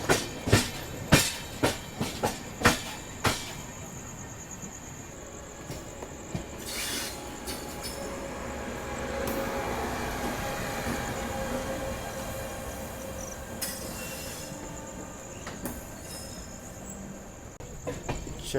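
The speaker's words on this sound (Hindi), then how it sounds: "शंटिंग करता हुआ डीजल लोकोमोटिव।" A diesel locomotive shunting at Rani Kamlapati railway station: a quick run of sharp metallic clanks and knocks in the first few seconds, then a steady, moderately loud rolling rumble with occasional faint knocks.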